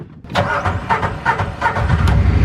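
A utility vehicle (mule) engine cranks and catches on a hunting farm, a close, loud burst of repeated starter pulses settling into a running motor over a couple of seconds.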